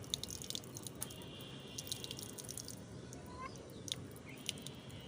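Water from a tap splashes and trickles continuously, faint and steady, with a few sharper drips and distant chirps over the low rushing noise.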